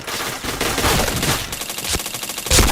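Rapid bursts of gunfire from the online shooter Point Blank, dense and continuous with a louder burst near the end, filling the whole clip without voices.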